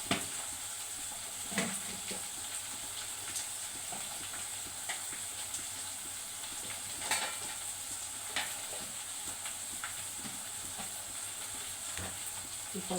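Lentils and turmeric fry in a pan, giving a soft steady sizzle broken by scraping stirs and occasional clinks from the spoon, close and fairly quiet, with no talking.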